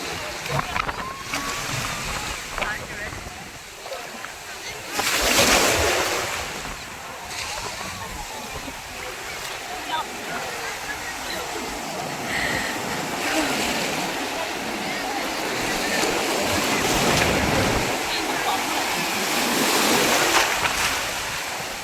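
Ocean waves wash onto Diu beach, with surges breaking and hissing in repeated swells amid gusty wind noise on the microphone, as people talk nearby.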